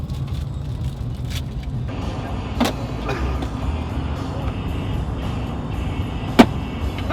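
Steady interior rumble of a big red truck driving along, a low road and engine drone with faint rattles and a couple of sharp knocks, heard from inside the cab.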